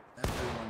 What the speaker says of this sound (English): Gentlemen, independent fire. Everyone's firing.